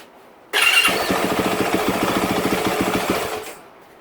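Rebuilt Yamaha YZ450F dirt bike engine fires up abruptly, then settles into a loud, rapid, steady idle thump for about three seconds before cutting off.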